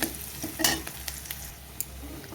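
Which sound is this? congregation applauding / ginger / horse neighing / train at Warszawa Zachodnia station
ginger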